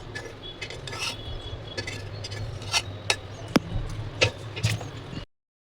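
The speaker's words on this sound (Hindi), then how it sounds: "चम्मच से निकालना पड़ेगा।" Metal spoon scraping cooked jackfruit sabzi out of a pot, a series of sharp clinks and scrapes at irregular intervals, close and fairly quiet, then silence.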